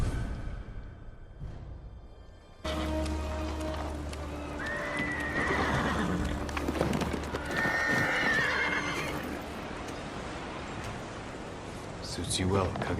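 An armored horse in the video game Ghost of Tsushima whinnies clearly twice over its clopping hooves, while someone speaks and game music plays softly underneath.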